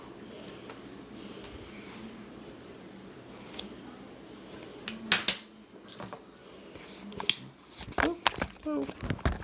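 Scissors snipping off the loose ends of a braided paracord cobra snake, several sharp close cuts and clicks clustered toward the end, some faint handling noise before them.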